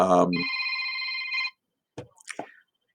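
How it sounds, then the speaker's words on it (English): A phone ringtone plays in a church family message, a bright steady electronic tone held for about a second before cutting off, followed by a few short clicks and taps. "all right, my phone was ringing."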